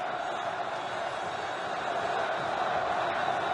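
Flamengo fans in a Brazilian Championship match roaring after a goal, a broad, steady stadium crowd din that swells slightly toward the end, heard from a distance.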